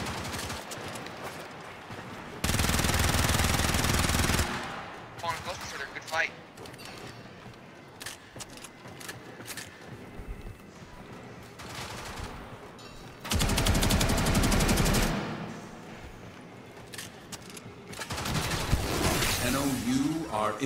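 Automatic gunfire in the video game Warframe during a free-for-all one-on-one match, with long, loud bursts and shorter volleys under steady game sounds and talking voices.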